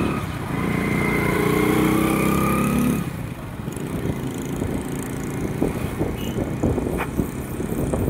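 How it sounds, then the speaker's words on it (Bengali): Motorbike engine while riding alone on the road, a steady loud drone for about three seconds, then easing to a lower rumble with scattered knocks and road noise. "এই বাইকের সাউন্ডগুলো আমাকে বলে দেয় আমি একা নয়"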